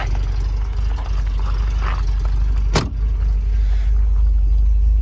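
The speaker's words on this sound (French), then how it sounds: "vous voyez que la voiture ne fume pas, elle fait un joli bruit" A 1974 MGB sits with its engine running, a steady low rumble close by with one brief sharp transient partway through, and no talking over it.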